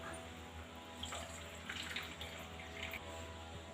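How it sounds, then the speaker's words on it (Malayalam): Water poured over washed green gram and rice in a pot makes a faint, steady running and splashing sound, with no voices. "ഇനി അതിലേക്ക് വെള്ളം ഒഴിക്കാം."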